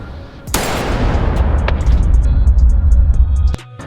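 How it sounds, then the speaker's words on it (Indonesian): A single loud pistol shot cracks out in a Squid Game film scene, followed by a booming, rolling reverberation that sustains for about three seconds before cutting off abruptly. "In-ho menembak adiknya itu dengan pistol"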